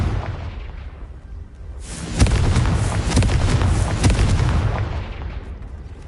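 A fiery Confringo spell from the Hogwarts Legacy video game erupts into a loud, crackling explosion burst after a quieter rumble, with sharp popping blasts and a sustained roar that slowly fades.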